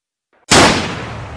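One loud, sudden blast from the Scorched Earth video game, up close, with a sharp attack and a roughly one-second decaying tail and no talking.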